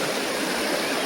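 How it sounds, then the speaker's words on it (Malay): Water gushes out from beneath a road beside a drain after a night of heavy rain, the road undermined with holes; a steady, close broadband rushing like a stream, with no talk. "Air dia keluar dari bawah bukan dari atas guys."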